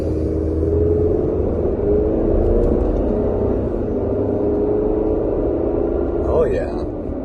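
A 2023 Chevy Colorado pickup fitted with a high output engine tune pulls away under power, its low engine rumble and road noise steady inside the cab while someone talks over it.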